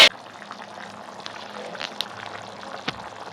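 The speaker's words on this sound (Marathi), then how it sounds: "उकळ आलेलं पण दाखवा" A pot of Malvani-style shivlya clam curry simmering on the stove, giving a steady low bubbling hiss with a few sharper pops near the two and three second marks; no voices.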